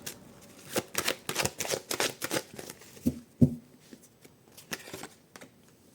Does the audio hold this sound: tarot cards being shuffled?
yes